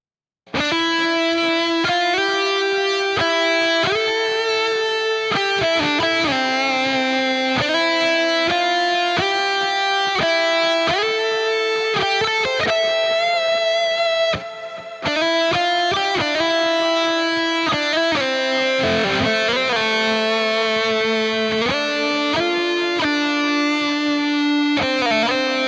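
An electric guitar plays a sustained, distorted lead through a Neural DSP Gojira X delay and shimmer reverb, with long ringing melodic notes and trailing echoes that carry on continuously, loud and close.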